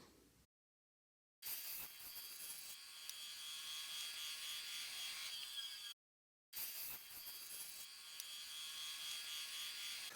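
Foam being hand-sanded with 220-grit sandpaper while shaping a Model T headlight lens mold: a continuous dry, raspy scraping in two long strokes separated by brief silences, close up with no talking.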